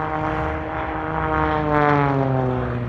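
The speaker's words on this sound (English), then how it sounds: "The extra NG is the latest in Walter Extra's very long line of world-beating aerobatic machines." Extra NG aerobatic propeller plane at an Australian airshow, a steady droning engine and prop with a rising pitch as it passes fairly close and loud, no voices.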